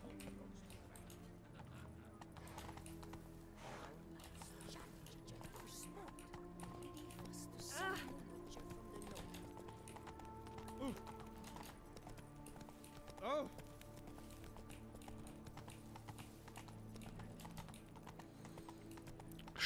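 Roach, a horse in The Witcher 3, trots with a steady, repeating clip-clop of hooves under game music and a voice talking.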